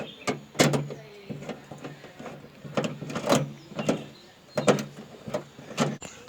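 Sharp mechanical clicks and clacks, several in irregular succession, as a power cable connector is pushed into the trunk latch of a Hyundai Verna car during repair; close, moderate level, with no talk.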